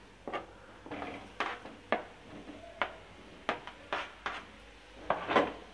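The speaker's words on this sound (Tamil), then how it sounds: "நம்ம வந்து கிழங்கு சேர்த்துக்கலாம்." Tapioca pieces being added to fried onions in a pan, with a series of soft irregular thuds, scrapes and light clinks of a utensil against the cookware, fairly quiet and close.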